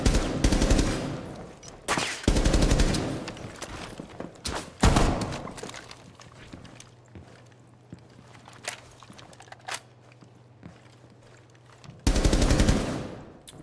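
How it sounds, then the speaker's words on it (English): Rapid shotgun blasts from the Thorn shotgun in the Rainbow Six tactical shooter game, loud broadband bursts in two clusters at the start, a quieter stretch with a low steady hum, then another loud volley at the end. "The Thorn shotgun is actually crazy."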